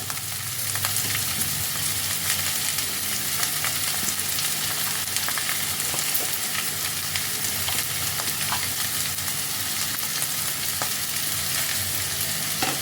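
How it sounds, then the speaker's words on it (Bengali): Chopped beans, carrots and onion sizzle steadily in a hot pan for chicken vegetable soup, a continuous loud frying hiss with faint stirring scrapes throughout and no voices. "এবার আমি এর মধ্যে দিয়ে দিচ্ছি কেটে রাখা বিনস আর গাজর।"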